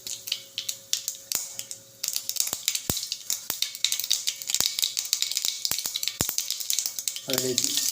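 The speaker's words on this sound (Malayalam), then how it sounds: "കടുകിട്ട് പൊട്ടിച്ച്" Mustard seeds popping in hot oil for a beef pickle, sharp irregular crackles and pops over a steady sizzle, close and fairly loud, ending with a brief clatter.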